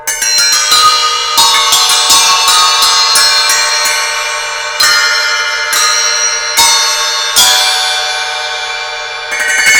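Paiste 2002 Cup Chime bell cymbals struck repeatedly with sticks, bright ringing hits in an uneven rhythm with a sustained shimmering decay, close and loud.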